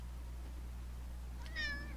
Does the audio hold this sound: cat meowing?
yes